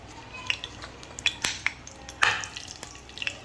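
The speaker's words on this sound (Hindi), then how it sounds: "अब हम इसमें राई डालेंगे" Mustard seeds spluttering in hot oil in a pan while preparing a Indian breakfast dish, a steady crackling sizzle with sharp pops and scattered clinks of a utensil against the pan, close and fairly quiet.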